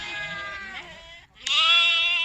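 Sheep bleat in a pen at a nomadic livestock camp, two loud close calls with a short pause between them.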